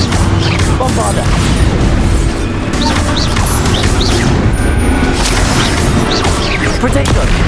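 Bombarda explosion spell cast during a wizard duel in the Hogwarts Legacy video game: loud, dense combat noise with booming blasts, crashes and chirpy magical effects, sustained without a break.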